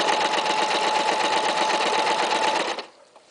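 A sewing machine stitches a curved fabric seam in one steady, fast mechanical whir that stops abruptly near the end, leaving near silence.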